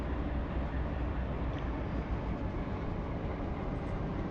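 A CSX freight train with two locomotives hauls a 10,000-foot consist in Run 8 Train Simulator, giving a steady, dense, low rumble that holds at the same level throughout with no voices.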